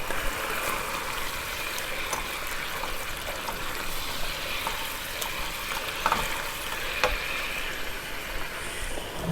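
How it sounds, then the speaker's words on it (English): A steady bubbling sizzle from sauce boiling in a pan of beef salpicao on the heat, continuous and close, with occasional small pops. "I'm going to increase my temperature so I can get the sauce to start boiling a little bit."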